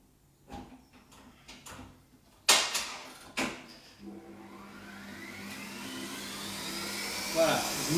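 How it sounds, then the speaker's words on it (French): An electric hand mixer whips liquid cream for a chocolate caramel mousse. After a few clatters and knocks the steady motor whir starts up and builds gradually, fairly quiet and close. "j'ai mis le batteur en route"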